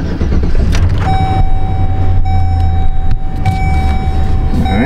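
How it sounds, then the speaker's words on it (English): A Chevy's engine cranks and catches, then settles into a loud, close idle with a steady low rumble and a thin whine; brief clicks and shifts punctuate it, with no talk. "we're gonna fire it up here and see what it sounds like first and foremost"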